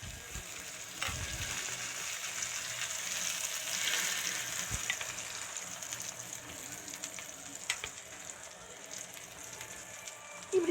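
Capsicum omelette sizzles in oil on a tawa, a steady close frying hiss with a few faint clinks and watery crackles, brief knocks near the start and end.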